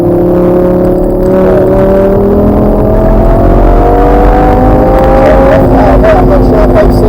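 A 560 hp Lamborghini engine accelerates hard around the Top Gear test track, its loud, steady rising whine climbing in pitch through the gears, close and continuous, with wind and road noise underneath.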